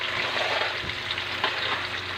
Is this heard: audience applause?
no